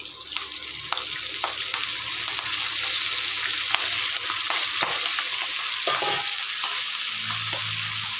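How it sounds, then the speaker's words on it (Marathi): Fenugreek leaves hit a pan of hot oil tempered with asafoetida and sizzle steadily while a spoon stirs them, with scraping clicks and taps scattered over the frying hiss and no talking. "आता आपण यामध्ये मेथीची भाजी घालणार आहे"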